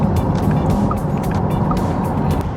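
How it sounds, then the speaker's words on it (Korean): A Porsche Taycan Turbo cruising at highway speed, with a steady, dense roar of road and wind noise heard from inside the car, constant and fairly loud throughout. "고속주행을 테스트하기 위해서 이제 타이칸 터보를 타고 과속은 하지 않는 범위 내에서 한번 실험을 한번 해볼게요"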